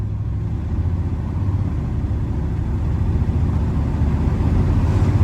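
Interior rumble of a Chevy on a test drive after a home front-wheel alignment: a steady low engine and road drone that builds slightly, with no voices.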